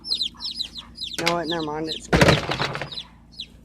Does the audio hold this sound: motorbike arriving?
no